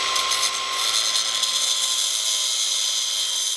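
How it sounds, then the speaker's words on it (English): A disc grinder cutting material off during an air-conditioner removal job, a high, steady whine held without a break, loud and close, with no talking. "we're going to get the disc grinder and take that off"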